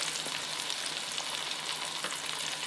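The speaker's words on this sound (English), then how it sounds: "I'll let y'all listen to that sizzle for a minute." A T-bone steak sizzles inside a Cosori Dual Blaze air fryer, a steady, crackling hiss of fat frying that carries on evenly with no talking.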